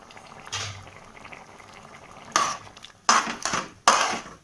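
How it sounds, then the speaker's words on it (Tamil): Spicy Indian pumpkin and groundnut gravy boils in a pot, bursts of thick bubbling and popping coming in irregular close spurts, louder toward the end. "இப்போ குழம்பு கொதிச்சிடுச்சு."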